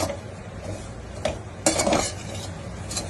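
A spoon stirs grated coconut in a pan with the gas off while making Gujarati sukhdi, producing close, irregular scraping strokes and a few sharper clinks against the metal.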